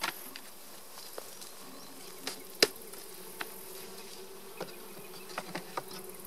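Honeybees drone steadily around a wooden beehive box during beekeeping work, a continuous close buzz broken by occasional light clicks and knocks of frames being handled, with no one speaking.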